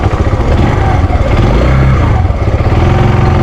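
Motorcycle ridden along a road on the way to town in the mountains, engine droning steadily and loud up close with rattling and slight revving throughout.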